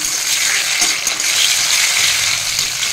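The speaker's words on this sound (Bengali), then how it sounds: "কড়াইতে তেল গরম হয়ে গেছে, এর মধ্যে পেঁয়াজ, টমেটো, লঙ্কা কিছু দিয়ে দিলাম।" Onion, tomato and chili hit hot oil in a wok, producing a loud, steady, hissing sizzle that fills the whole stretch without pause or talk.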